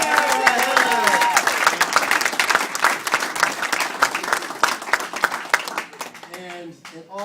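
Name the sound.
crowd applauding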